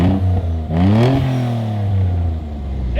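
A 3000GT VR4 that sat at a salvage auction revs hard with its turbocharged engine, pitch climbing sharply and falling back before settling into a steady, loud, close drone.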